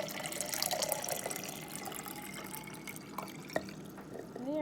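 Water poured into a small container for a hopping popcorn experiment, a steady splashing, trickling stream that fills the clip at moderate volume and ends with rising gurgles as the container fills.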